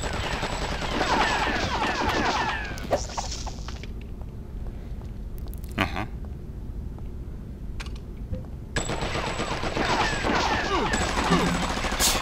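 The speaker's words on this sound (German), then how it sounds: "Mit seinem verkackten Maschinengewehr." Rapid machine gun bursts rattle in the Batman Vengeance video game, loud and close. They come in two long stretches with a quieter gap of scattered impacts between them.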